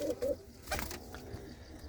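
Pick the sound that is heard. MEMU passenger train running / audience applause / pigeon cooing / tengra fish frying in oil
pigeon cooing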